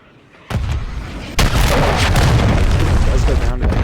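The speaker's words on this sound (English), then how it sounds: "Does go down to that cruise missile." A cruise missile explodes in a competitive esports match of a shooter video game, one loud booming blast followed by a second heavier burst and a sustained roaring rumble, with no voices over it.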